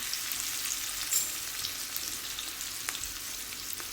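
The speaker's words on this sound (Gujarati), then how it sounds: "ત્યારબાદ આ લીમડો અને લીલા મરચાં નાખી દઈશું. વઘારને થોડું થવા દઈશું." Curry leaves and green chillies sizzle steadily in hot tempering oil for rava dhokla, a continuous close frying hiss with no talking.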